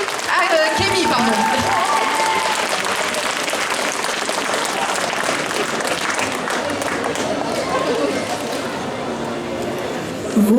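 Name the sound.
audience applause at cosplay contest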